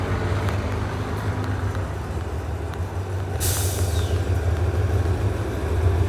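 GEA diesel locomotive with a 2,500-horsepower Cummins KTA-50L engine, hauling express parcel freight train 985 at a station, drones in a steady low rumble, with a sharp burst of air hiss midway; no voices.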